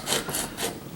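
A chisel is sharpened on a coarse 140 grit sharpening stone, with three rhythmic rasping strokes of metal scraping across the stone, close and fairly loud.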